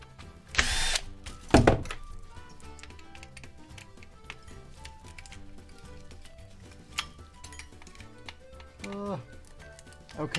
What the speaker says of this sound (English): I need to test how many twists it actually takes to get these screws out